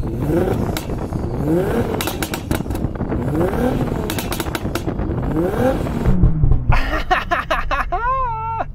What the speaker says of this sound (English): I'm going to rev up this GTR now because it sounds good